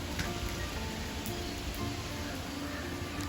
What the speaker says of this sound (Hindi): पर बारिश हो रही है